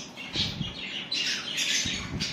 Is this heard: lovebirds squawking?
yes